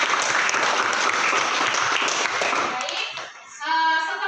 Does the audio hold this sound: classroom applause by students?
yes